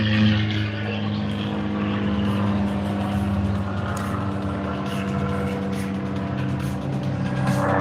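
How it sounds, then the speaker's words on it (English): An airplane passes overhead in a backyard, a steady, loud engine drone that holds throughout without breaks or voices. "It's a plane above me."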